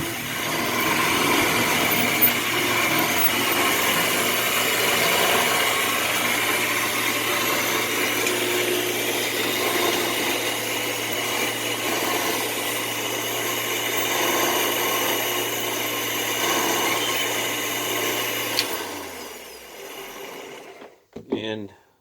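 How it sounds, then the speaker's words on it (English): A remote-controlled winch lowering a lift runs as a steady motor whine and drone for about nineteen seconds, then stops, followed by a few brief clanks. "let me hit the remote control and operate that winch right there"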